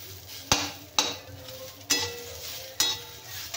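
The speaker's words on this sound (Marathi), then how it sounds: "आता आपल्याला भाजायचा आहे कांदा। कांदा पण आपल्याला गोल्डन भाजून घ्यायचा आहे।" Onion frying in a pan to golden brown for Hyderabadi mirchi ka salan, a steady close sizzle broken by four sharp scrapes or taps of a utensil against the pan.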